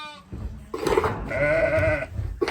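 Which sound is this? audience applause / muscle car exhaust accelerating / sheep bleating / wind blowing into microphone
sheep bleating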